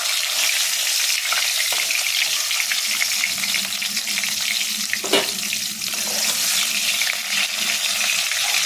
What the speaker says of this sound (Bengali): এই দেখুন চিকেনগুলো আমার লাল লাল করে ভাজা হয়ে গেছে,